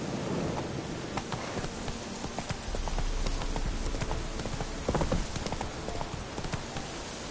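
Hooves of Roach, the horse in The Witcher 3, clip-clopping in a steady walking rhythm over a damp, rain-pattered ground, moderately close with a soft patter underneath.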